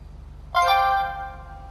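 A mobile phone rings once during a GTA V motorcycle ride, a bright tonal chime starting abruptly and fading after about a second over a steady low engine hum.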